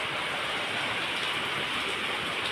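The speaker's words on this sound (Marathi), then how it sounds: "दिसतंय का पाऊस?" Steady monsoon rain pours down in a dense, even hiss, loud and close, with no other sounds over it.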